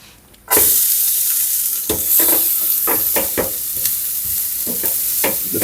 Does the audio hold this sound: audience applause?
no